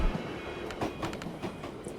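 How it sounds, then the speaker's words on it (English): A southbound militia supply train in the video game Tactical Breach Wizards rolls past, a quiet rumbling drone with a few clacking bursts, faint and brief. "Militia supply train, southbound."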